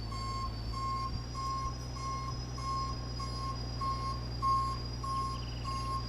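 Steady reversing beeps from a farm vehicle in the Farming Simulator 19 video game, an evenly spaced series of loud electronic pulses over a constant engine drone, with no talking.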